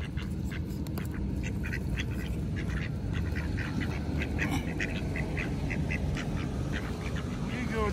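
Ducks on the Yellowstone River quack repeatedly as they are fed, in a busy cluster of nearby calls over steady flowing water and outdoor noise.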